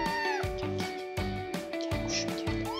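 A young kitten meows loudly and close by, giving about five insistent, evenly spaced cries in quick succession.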